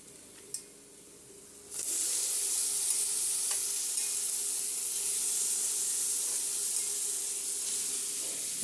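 Soya chunks (meal maker) hit hot oil in a pan and break into a loud, steady sizzling hiss that continues without pause after a brief quiet moment and a small clink.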